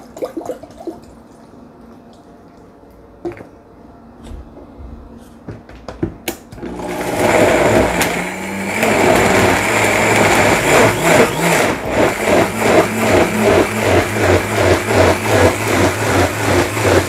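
Blender whirring through vegetable juice with pineapple chunks added, starting after a few quiet kitchen clinks and then running loud and steady with a pulsing, rhythmic churn to the end.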